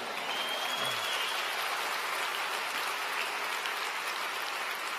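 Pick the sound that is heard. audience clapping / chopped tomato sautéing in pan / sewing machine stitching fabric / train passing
audience clapping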